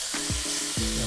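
Short ribs searing in a hot pan for ragu, a loud continuous close sizzle with a few brief clicks or pops as the meat is moved.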